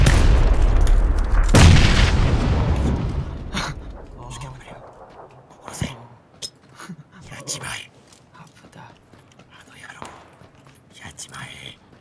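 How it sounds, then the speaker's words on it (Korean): A grenade blast and gunfire in the first-person PUBG battle royale game, opening with a loud roaring boom that fades into scattered sharp shots and clicks, with players talking over it. "수류탄 던졌어."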